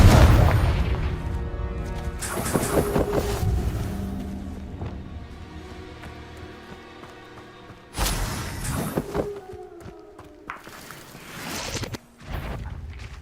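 Spell blasts such as Confringo and Incendio go off in Hogwarts Legacy on PS5, a run of heavy booming explosions with crackling tails, several loud impacts spaced over the stretch with no talk.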